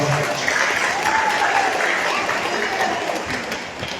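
A congregation applauds at a church anniversary celebration, dense sustained clapping heard fairly close and loud, tapering slightly toward the end.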